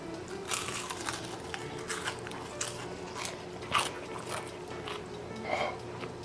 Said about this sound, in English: You can listen to the crispiness of the skin.